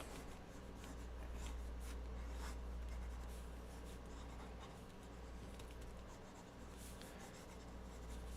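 Fountain pen nib scratching across paper while sketching, a soft continuous scrape with faint strokes over a steady low hum, close and quiet throughout.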